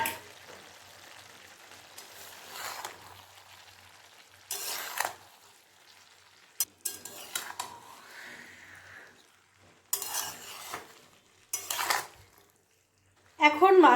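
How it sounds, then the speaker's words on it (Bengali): Fried small fish tipped into cooking vegetables in a pan and stirred, short bursts of sizzling and utensil scraping separated by near-silent gaps, with brief moments of speech. "এখন আমি এই সবজিগুলোর মধ্যেই ছেড়ে দেব ভাজা মাছগুলোকে।"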